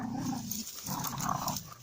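Dogs, one named Rex, growl while play-fighting in snow in the woods, two close bursts of low rumbling growls separated by a short gap.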